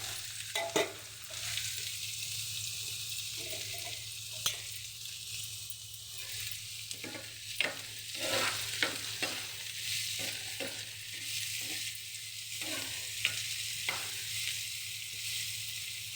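Onions and green chillies frying in hot oil, a continuous close sizzle with frequent sharp scrapes and taps of a spoon stirring in the pan, no voices.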